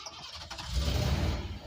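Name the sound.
car engine starting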